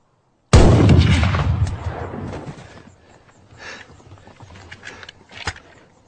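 A single loud rifle shot rings out in a film scene, a sharp close blast followed by a long rolling echo that fades, with faint scattered sounds afterward.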